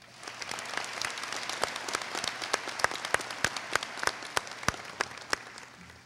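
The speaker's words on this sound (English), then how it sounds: "Can we give them a nice round of applause?" Audience at a 2018 St. Clair Shores Lakeview high school graduation ceremony applauding, a steady wash of clapping with sharper individual claps standing out, fairly close and sustained throughout.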